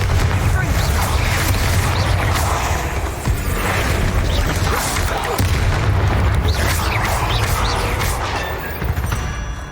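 A Confringo spell explosion in the Hogwarts Legacy video game roars as a loud, continuous booming blast, with dense rumbling crashes that barely let up.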